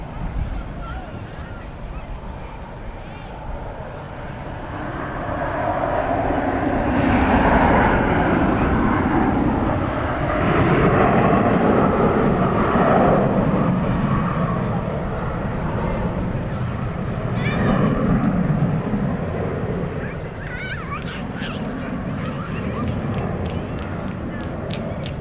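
American Airlines Boeing jet taking off at night at DFW Airport, a broad rumbling roar that swells and fades over several seconds, heard from a distance with people talking over it.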